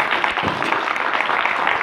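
Crowd applause at a Formula 1 2015 video game cup final event, a steady dense wash of clapping from an audience, continuous and fairly loud for a brief moment with no talk over it.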